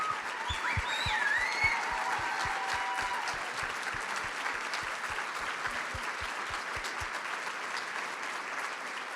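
Audience applause at a water summit, a dense wash of clapping from a crowd with a few whoops and cheers early on, holding steady then slowly thinning out.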